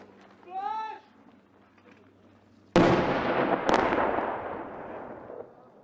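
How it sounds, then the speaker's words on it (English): Guided missile strikes on a Taliban firing position in a combat zone, two sharp loud blasts a second apart followed by a long rolling rumble that fades, after a brief distant voice. "the Black Watch aren't sure that they have got that Taliban firing position, so they're calling in some guided missiles"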